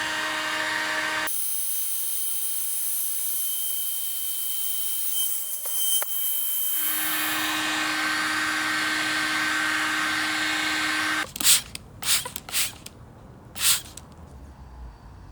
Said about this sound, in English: It's due to the heat gun